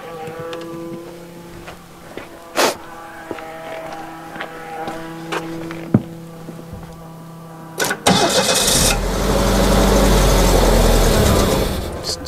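The engine of a 1989 Winnebago LeSharo RV cranks with a rhythmic starter whir, catches briefly and roars for a few seconds, then stumbles and dies. The sound is close and loud.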